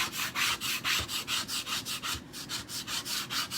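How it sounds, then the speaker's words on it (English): A paste scraper rubs back and forth over a chalk-pasted surface to erase it, making a steady rhythmic scraping of about three strokes per second, close and fairly quiet, with no talk. "I'm going to use the paste scraper to erase all of this."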